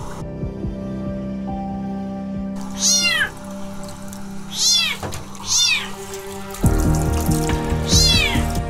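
A flea-ridden cat meows loudly several times in separate drawn-out cries over the steady trickle of a running water tap.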